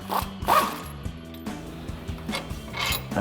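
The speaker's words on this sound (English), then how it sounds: "So I'm gonna be using a 19mm socket and wrench to remove this first bolt." A 19mm socket and wrench working a bolt loose on a Jeep Wrangler TJ rear track bar, giving close metallic ratcheting clicks in quick repeated bursts, with faint scraping between them.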